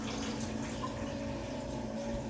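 Ordinary tap water runs into the reservoir of a Keurig coffee maker, a soft, steady stream of flowing water that carries on evenly throughout.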